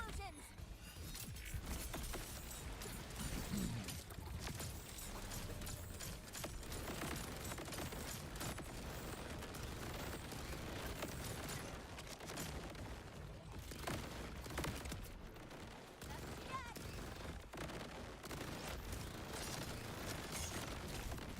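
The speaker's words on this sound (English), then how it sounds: "Love explosions!" Dense video game combat during a boss fight, with a constant barrage of bursts and booms under ongoing background noise, loud and unbroken throughout.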